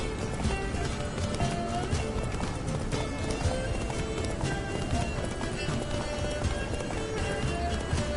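Hooves of a horse gallop steadily in The Witcher video game, a continuous rapid clatter mixed into dense, loud game sound and music with a faint voice underneath.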